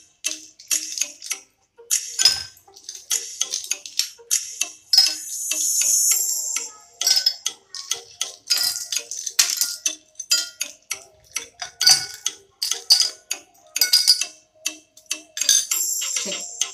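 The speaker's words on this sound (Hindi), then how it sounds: "आइस डाल देते हैं इसमें हम।" Ice cubes dropped into a chilled glass while preparing kesar pista lassi: a quick series of close, bright clinks and rattles, irregular and alone, with short bursts of tumbling cubes.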